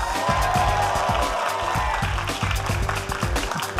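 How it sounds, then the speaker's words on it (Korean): An esports arena audience applauds MVP players after a League of Legends match win, with loud continuous clapping from a crowd and rhythmic thumping beneath it. "큰 박수 부탁드리겠습니다"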